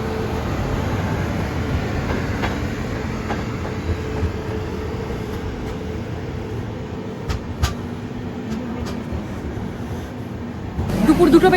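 Inside the Amrit Bharat Express running non-stop, a steady low rumble of the moving carriage continues throughout with faint rhythmic clicks of the rails, growing louder and harsher near the end.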